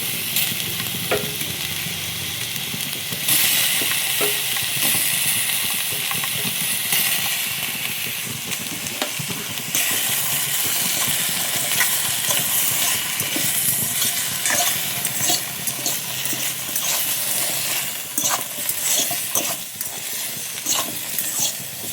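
Paneer tofu frying in a pan makes a loud, dense, continuous sizzle with faint scraping underneath that holds steady throughout, no voices.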